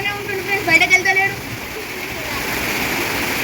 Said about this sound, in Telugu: చూసారా వాళ్ళ ఇంట్లోకి నీళ్ళు వస్తున్నాయి ఫ్రెండ్స్